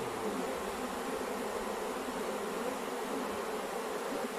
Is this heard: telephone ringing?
no